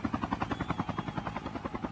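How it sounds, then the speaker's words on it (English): A helicopter in the mobile shooter Call of Duty Mobile battle royale gives a steady rapid rotor thump, evenly pulsing and moderately faint, with no voices over it. "he does have a helicopter to play with"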